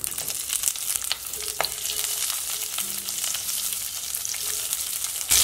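Mustard seeds and thickly chopped medium onion frying in hot oil in a pan for sambar, with a steady close sizzle, scattered crackles and occasional stirring scrapes, growing louder at the very end.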